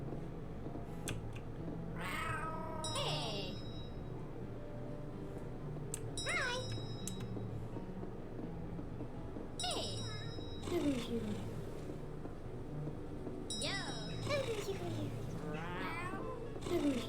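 Cats in the Cat Cafe Manager video game give several separate meows spread through the stretch, each a short call at moderate loudness over a steady hum of background game sound.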